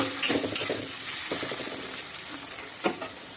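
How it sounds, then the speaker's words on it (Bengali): Onion and tomato frying for a Bengali fish curry, with a steady close sizzle in the pan and a few sharp scrapes and clinks of a spatula being stirred through it, no talking. "এবার পেঁয়াজ আর টমেটো দিয়ে ঝালটা করে"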